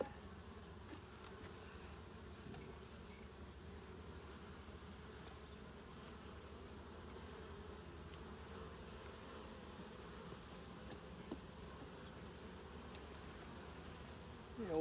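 Honeybees buzz during a fall beehive inspection, a steady, low, continuous drone of many insects, faint and somewhat distant, with no speech over it.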